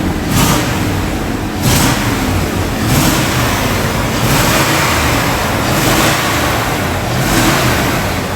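A truck engine runs after a fuel pump replacement, a loud, steady mechanical roar close to the microphone with periodic surges, like light revving, and no talking.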